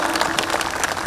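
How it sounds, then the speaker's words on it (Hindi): An audience at a mushaira, an Urdu poetry gathering, breaks into applause, a brief burst of many hands clapping close and loud with no talk over it. "दोस्तों तालियों से इस्तकबाल करें"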